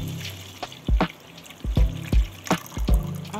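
Water is poured into a bowl already holding apple cider vinegar, heard as close, irregular splashes and glugs in several bursts with a faint background hum.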